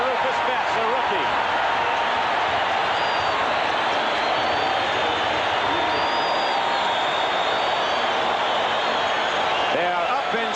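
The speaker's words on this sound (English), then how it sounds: "They are up and cheering here in Oakland" A stadium crowd in Oakland at a 1979 Raiders versus Browns football game cheers, a steady roaring wash of many voices that holds throughout, with an announcer talking over it.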